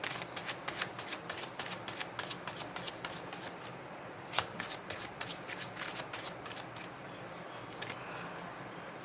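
Tarot cards are shuffled by hand in a quick run of rhythmic riffling flutters, soft and close, pausing briefly before further shuffles, with no talk.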